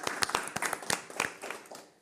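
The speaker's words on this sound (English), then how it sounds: "I want to have a big round of applause for you now" An audience claps for an organization's members, a short burst of scattered individual claps from a modest crowd, fairly faint and uneven.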